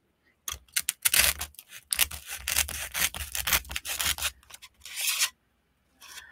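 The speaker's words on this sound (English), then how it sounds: "I'm going to use my box cutter and cut this off. It's styrofoam." A box cutter slices through styrofoam in loud close scraping, squeaking strokes, a run of rapid rough rasps followed by a short pause and a faint final cut.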